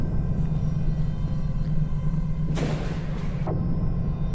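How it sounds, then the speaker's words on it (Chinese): A lightning strike from a video game booms as a deep rumbling roar under a steady low drone, with a sharp crackling burst and a second crack about a second later. "手指一捏一搜，就直接劈雷电出去啊"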